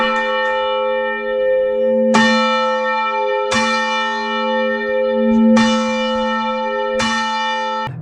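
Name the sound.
church bell ringing in the bell tower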